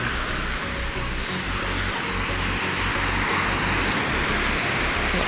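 Strong sea waves at a fishing spot churn in a loud, continuous roar, with low rumbling and wind buffeting the microphone throughout.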